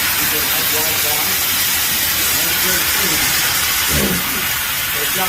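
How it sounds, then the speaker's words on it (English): A fire hose nozzle set to a wide water fog gives off a loud, steady hissing spray that runs the whole time, with a brief surge partway through. "Now you'll notice on this particular nozzle, it does do a nice wide fog."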